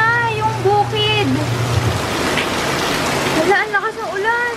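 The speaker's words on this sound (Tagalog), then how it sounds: "Hala, ang lakas ng ulan! Bumabagyo na!" Heavy rain in stormy weather outside, a loud, constant roar of falling water beneath excited voices talking over it.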